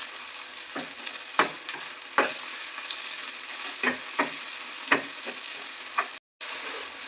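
Potatoes and beans with curry leaves frying in a pan for a simple palya, a steady close sizzle broken by several sharp scrapes and clinks of a spoon stirring, with a brief drop to silence near the end.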